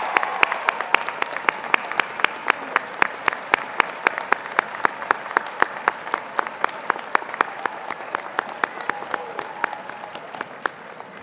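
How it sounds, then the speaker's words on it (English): A large crowd at a 2025 high school commencement ceremony claps steadily for parents and families, a long sustained round of applause with some sharp nearby claps standing out, and no talk on top. "please stand to be recognized by a round of applause"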